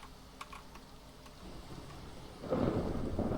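Thunder from a lightning strike rumbles in a video game, building low and then booming louder near the end, with scattered tapping like keyboard typing beforehand.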